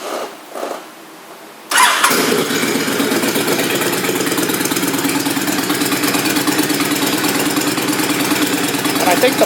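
A 2009 Honda VTX1300T motorcycle with its exhaust baffles removed starts after a second or two of quiet and then idles steadily, loud and close, with a dense, even rumble.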